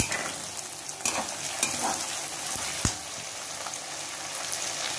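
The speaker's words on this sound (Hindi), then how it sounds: "प्याज डालने के बाद इसमें हम लोग डाल लेंगे हरी मिर्च और इसको हम लोग अच्छा सा फ्राई करेंगे।" Onion and green chilli fry in a pan for poha, a steady close sizzle with a few spatula stirs and scrapes mixed in.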